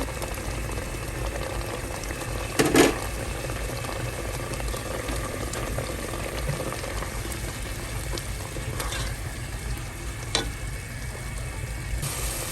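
A pot of water with cardamom, star anise, cinnamon stick and clove boils steadily and bubbles away as it evaporates, a close, continuous simmer with an occasional clink.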